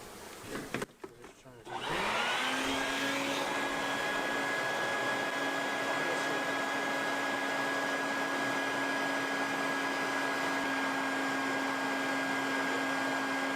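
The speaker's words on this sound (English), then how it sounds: "vacuum a little bit?" A loud, steady motorized whine of a bee vacuum with a constant pitch starts after a brief shuffle and runs on continuously during beehive removal from a wall, with faint buzzing of bees underneath.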